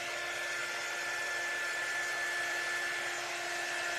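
Steady, loud whir of a hair dryer blowing continuously to dry paint on a craft project, with a constant tonal hum and broad airy rush and no break.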